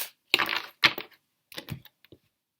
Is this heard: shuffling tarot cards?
yes